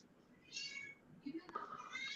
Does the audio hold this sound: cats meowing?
yes